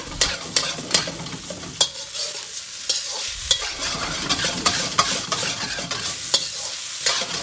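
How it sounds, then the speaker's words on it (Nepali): Vegetable chow mein being stir-fried and tossed in a pan, with a steady sizzle and repeated sharp clanks of the utensil against the pan, close and continuous with no talk. "यसरी मजाले टस भइसक्यो। अब हाम्रो चाउमिन लगभग फ्राई भइसकेको छ।"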